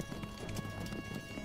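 Horse hooves clip-clop quietly in a cowboy video game, a soft uneven patter of several steps in quick succession over low background sound.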